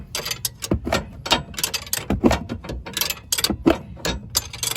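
A ratchet tightens a sway bar link on a Chevy Equinox, giving close, rapid bursts of metallic clicks with short pauses between strokes and no talking.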